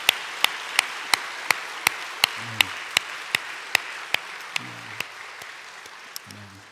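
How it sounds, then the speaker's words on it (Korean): A church congregation claps on Easter Sunday. Sharp, evenly spaced claps keep a steady rhythm, with quiet low tones in between, and the claps fade slightly toward the end. "다시 한번 부활하신 주님께 큰 박수로 영광 올려드리기 원합니다"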